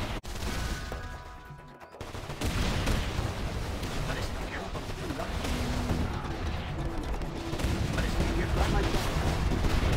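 Dense, continuous battle fire from Command & Conquer Zero Hour with the Project Raptor 9 mod, booming, rumbling volleys and explosions in a loud, unbroken wash after a brief lull, with in-game voice lines heard over it.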